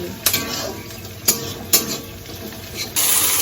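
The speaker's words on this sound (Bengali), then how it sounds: "এই যে মশলা কষাচ্ছি" Masala spices being stir-fried in a pan: a spatula scrapes and knocks against the metal several times over a continuous close sizzle.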